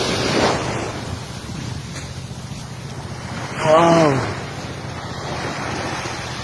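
Sea waves surge back onto the shore after an earthquake in the Philippines, a steady wash of surf with wind noise throughout, and a voice speaks briefly over it midway.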